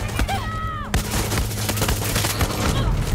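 Gunfire in the shooter Far Cry 6, with loud rapid bursts and scattered single shots over a low rumble, plus a brief shout near the start.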